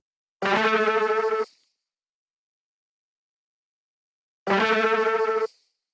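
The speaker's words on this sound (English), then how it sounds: "we have just some counter melody stuff happening here with this little sampled piano" Sampled piano counter melody heavily processed with tape saturation: two separate sustained, buzzy harmonic phrases about a second each, separated by several seconds of silence, upfront and dry-edged.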